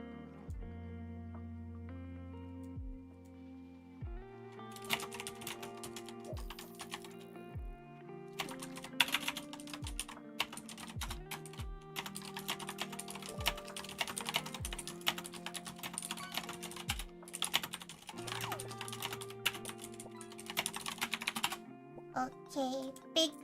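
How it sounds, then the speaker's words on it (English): Rapid typing on a computer keyboard gives close, busy clicking in quick bursts and runs over soft background music. "Okay, big typings. Clickety clackety clack."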